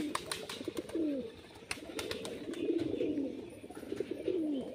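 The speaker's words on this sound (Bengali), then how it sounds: "দুটোই কিন্তু নিচে বাজির পায়রা।" Pet pigeons kept for flying coo softly, with several low throaty rolling calls repeating over faint background noise and occasional light clicks.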